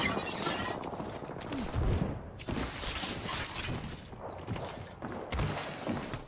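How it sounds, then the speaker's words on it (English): An enemy shield breaks in the battle royale game Apex Legends, a sharp glassy shatter bursting out amid rapid gunfire and thudding impacts in a busy in-game fight. "Cracked an enemy shield."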